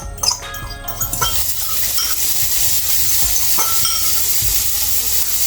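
Garlic dropped into about a tablespoon of hot oil in a pan sizzles loudly and steadily, with a few clinks and stirring scrapes near the start, no voices.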